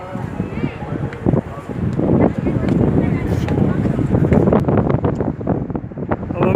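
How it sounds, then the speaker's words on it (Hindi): Strong, cold, fast wind gusts across a bridge over the Ganga river, buffeting the microphone with loud, rumbling roars and crackles while someone talks over it. "बहुत ठंडी और बहुत फास्ट हवा चल रही है यहाँ"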